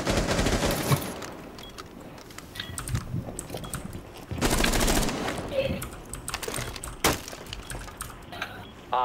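Rainbow Six Siege gameplay with a shotgun: several sharp, loud gunshot blasts burst out in irregular bursts with clattering mechanical sounds between them, while a player talks intermittently under the action.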